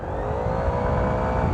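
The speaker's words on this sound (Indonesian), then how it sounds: "Ini aku gas full ya," Honda PCX scooter fitted with a turbo at full throttle, its engine roaring steadily and loudly with a close, sustained high whine throughout.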